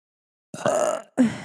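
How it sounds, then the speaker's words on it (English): A person gives a short burp after a moment of silence, then a second throaty, belching sound, both close and fairly loud. "I think every episode I'll just eventually burp towards the end."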